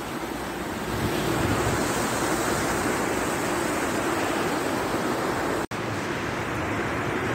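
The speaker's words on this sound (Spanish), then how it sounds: "Ya veis ahí la cascada, ¿eh?" A waterfall on a wintry walk roars with a steady, dense wash of rushing water, loud and continuous throughout, broken only by one brief dropout.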